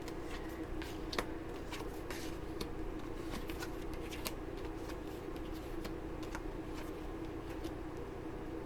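Tarot cards being shuffled, soft riffling and flicking in quick irregular bursts, faint and close over a steady low background hum.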